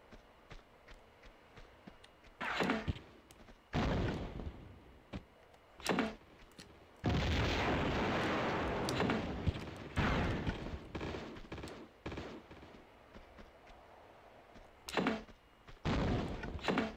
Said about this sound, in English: that sound effect for the grenade launcher, uh-huh. I swear that's taken straight from Terminator 2.